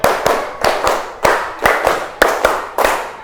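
A class of schoolchildren claps in unison in a repeated rhythmic pattern, each group of two sharp, loud claps spaced evenly across the clip with no talking.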